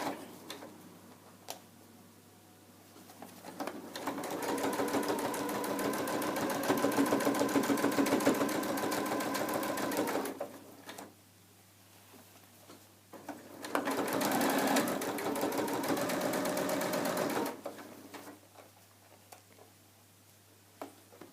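A sewing machine runs two long stitching passes along the top edge of a fabric tote bag, each a steady mechanical whir lasting several seconds, separated by quieter pauses with faint handling.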